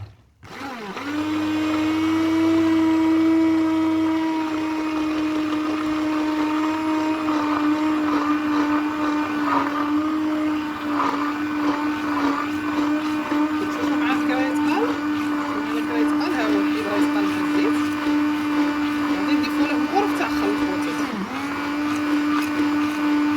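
A kitchen blender whirs continuously at high speed, mixing milk and other ingredients for homemade cheese, its steady motor whine loud and close, holding for over twenty seconds with a brief dip near the end.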